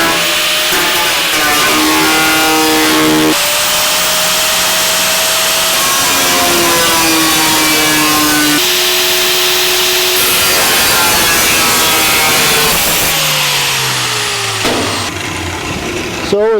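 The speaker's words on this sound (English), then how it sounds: "Now we're going to cut a big hole in the floor of our trunk." Power saw cutting a large hole through the sheet-metal trunk floor of a 1949 Chevrolet gasser, loud continuous screeching with sliding pitch changes and brief shifts as the cut progresses, close and sustained.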